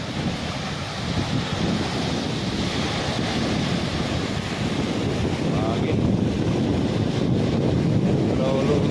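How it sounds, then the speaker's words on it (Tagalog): Heavy storm surf roars continuously, with strong waves crashing and churning over wind buffeting the microphone during a typhoon. Voices can be faintly heard in the background. "Malakas pa rin ang alon kabayan."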